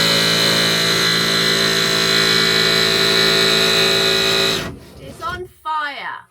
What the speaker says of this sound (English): I just need to drill this hole a bit bigger to get the blade in, and then it should be a simple case of cutting this out